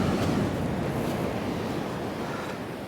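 A big wave washes up onto the shingle at Bee Sands beach in South Devon, a steady broad rush of surf with wind buffeting the microphone, loud and close throughout.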